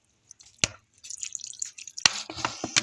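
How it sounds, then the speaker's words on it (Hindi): Water poured from a container onto a Mirabilis jalapa (four o'clock plant) cutting in a pot of soil, heard close up as a short splash, then a sustained trickle and drips soaking into the soil. "देखें, ये दूसरी बार मैं डाल रहा हूँ"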